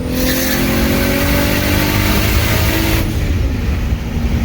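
A big-turbo Infiniti G35 racing in third gear against a 2JZ-swapped Nissan Silvia S14, its engine revving loud and close with rising, strained harmonics, then a sudden drop as the throttle eases near the end.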